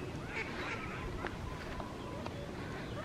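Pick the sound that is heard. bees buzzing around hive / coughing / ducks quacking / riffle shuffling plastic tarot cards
ducks quacking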